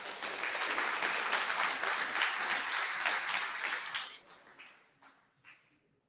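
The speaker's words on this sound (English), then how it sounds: "so quick applause." A conference audience at NixCon Paris 2022 gives a quick round of applause for the lightning speakers, a dense wash of clapping that holds steady, then tapers off into a few scattered claps.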